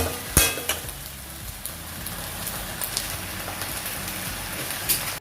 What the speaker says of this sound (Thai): นี่ครับต้องผัดให้แห้งแห้งๆมันจะอร่อย